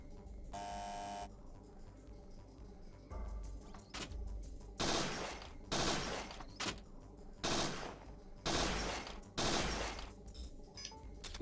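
Single gunshots fired one at a time during shooting practice in the PlayStation game Parasite Eve 2, a burst of about six loud, sharp reports spaced roughly a second apart, with a short beeping tone near the start and quieter mechanical clicks between.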